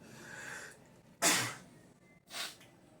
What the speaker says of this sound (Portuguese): É um espirro para variar